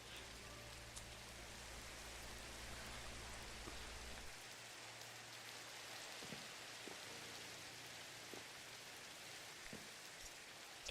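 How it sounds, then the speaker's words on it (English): Rain falling in Minecraft, a steady soft hiss of raindrops with faint scattered pattering, even and continuous throughout at low volume. "And then it starts raining."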